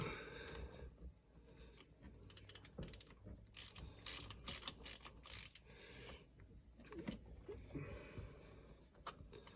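A ratchet fitted with a rubber-lined spark plug socket clicks in quick bursts of pawl ticks while loosening a spark plug on a 2018 Yamaha 242X boat, close up with short pauses between strokes.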